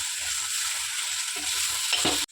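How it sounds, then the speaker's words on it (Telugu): Ginger paste fries with onions in a pan for an egg curry, a steady loud sizzle with soft rhythmic scraping from stirring underneath, ending in an abrupt cutoff. "ఒక స్పూన్ అల్లం పేస్ట్ వేసుకొని దాన్ని కూడా మంచిగా ఇట్లా కలుపుకొని ఫ్రై చేసుకోవాలి"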